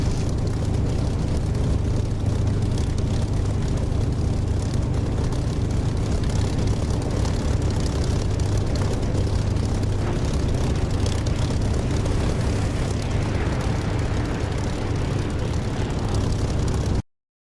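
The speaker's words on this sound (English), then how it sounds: "That's a nice little fly past." A propeller aircraft roars past continuously in the DCS flight simulator game, a dense loud engine drone lasting throughout before cutting off abruptly at the end.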